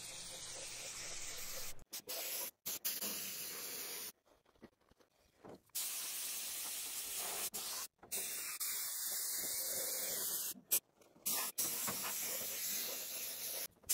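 An aerosol spray can applies coating onto car sheet metal in repeated long hissing bursts separated by short pauses, close and steady, with occasional sputtering at the ends.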